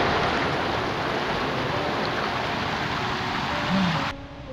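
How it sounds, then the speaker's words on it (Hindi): A small waterfall rushes continuously beside a Shiva statue in Nathang valley, a loud, close broadband roar of falling water that holds steady, then softens near the end. "ये वाटरफॉल है, इतना नज़दीक से आप लोगों को दिखा रहे हैं"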